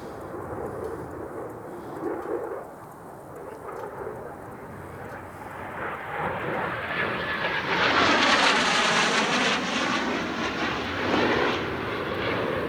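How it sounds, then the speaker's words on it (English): Blue Angels jet aircraft pass overhead, a broad roar that swells from a distant rumble to a loud peak near the end, then eases slightly. "Those are the Blue Angels flying over where I like to stargaze."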